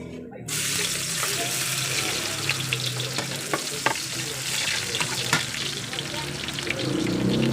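Garlic sautéing in a pan as the base for pork escabeche, a steady close sizzle with occasional stirring scrapes and clinks running throughout.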